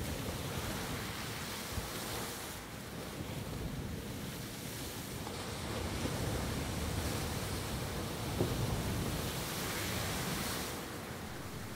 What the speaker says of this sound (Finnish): Aaltojen koon ja voiman aistii kunnolla vasta vedessä.